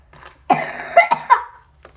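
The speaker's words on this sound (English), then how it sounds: "Don't mind my cough." A person gives a short burst of three or four throaty coughs close to the microphone, with no talking around them.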